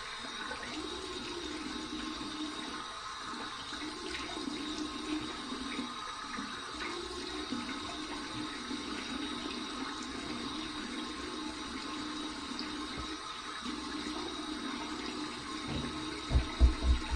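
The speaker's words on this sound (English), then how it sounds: "Here's my warm water rinse." Warm water flows steadily from a tap or sink for a head rinse after a shave, a soft continuous wash with a few louder splashes near the end.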